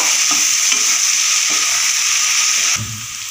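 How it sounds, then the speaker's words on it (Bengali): Ground coriander-cumin and Kashmiri chili powder being stir-fried together in a pan for a vegetarian khero curry: a steady, loud sizzle with intermittent scraping strokes of a stirring utensil. "এবার সমস্ত মশলা আমি একসাথে কষিয়ে নেব"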